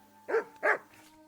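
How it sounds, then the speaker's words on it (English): A dog in the Kingdom Come Deliverance 2 video game gives two quick, loud, close barks in succession, followed by a faint trailing yelp over a steady low game hum. "Call off that damn dog before he wolfs down the last of our mates"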